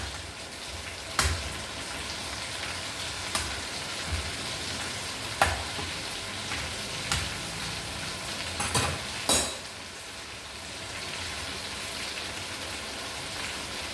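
Bonda fritters sizzle and crackle in hot oil while being stirred, a steady dense frying hiss broken by sharp clicks and knocks of the stirring spoon against the pan.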